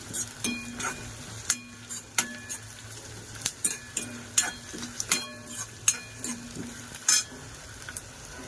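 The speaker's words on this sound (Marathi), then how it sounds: "चांगली भाजून घ्यायची।" Ingredients for a dried bombil (Bombay duck) curry roast and fry in a pan, with a soft, continuous sizzle and a run of sharp spatula scrapes and metallic clinks at an uneven pace, close up and with no voices.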